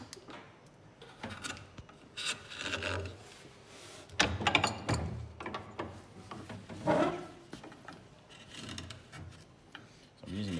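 A steel chisel pares and scrapes wood while shaping a ukulele heel, giving irregular rasping and rubbing strokes with a few louder scrapes, close and fairly quiet, with no talking.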